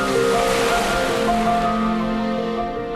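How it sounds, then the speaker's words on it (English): Ocean waves wash steadily onto a southern shore of Kenting at night, a continuous broad rushing surf with no voices, holding an even, fairly loud level throughout. "Under the moonlight, the waves lightly caress the southern shores."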